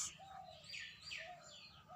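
Pigeons coo softly at a distance in a new house, a few faint warbling calls heard alone over quiet background.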